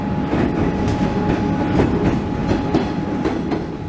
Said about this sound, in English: the sound and feeling of crossing the bridge are unmistakable